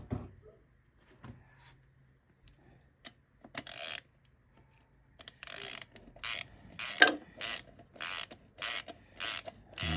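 Ford AOD transmission parts turn during assembly with a run of ratcheting mechanical clicks and metallic clatter. It starts sparse and quiet, then grows into loud, rapid bursts up close, with no talking.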